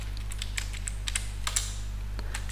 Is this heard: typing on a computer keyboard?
yes